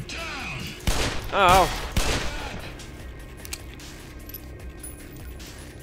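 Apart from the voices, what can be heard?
gunfire in the video game Black Mesa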